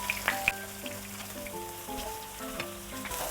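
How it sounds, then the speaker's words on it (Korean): Korean stuffed chili pepper pancakes fry in a pan of oil, giving a steady, close sizzle with scattered crackles and pops, faint background tones, and no talking. "이렇게 보면 기름이 사이사이에 막 다 들어가죠. 튀기듯이 있죠"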